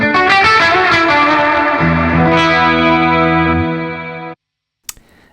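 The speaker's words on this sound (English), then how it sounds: "Plate reverb is very nice for longer stuff" A guitar chord rings out through the plate reverb of a Zoom MultiStomp MS-70CDR pedal, with a long, smooth sustained tail that cuts off sharply, followed by a brief faint click.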